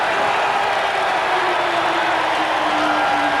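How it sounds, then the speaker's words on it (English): A basketball arena crowd at a 1995 NBA game roars in a steady, dense wash of cheering and noise while the Orlando Magic play, loud and continuous for the whole moment. "The crowd reacting to the performance by the Orlando Magic in this first quarter."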